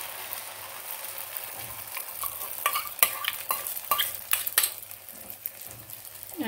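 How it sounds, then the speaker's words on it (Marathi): Omelette batter with onion and tomato hits a hot oiled griddle and sizzles steadily, while a spoon or spatula stirs and scrapes in a run of light clicks and taps. No one speaks. "तर जे हे आपण बॅटर बनवून घेतलेलं आहे ते यामध्ये आपण टाकून घ्यायचं आहे।"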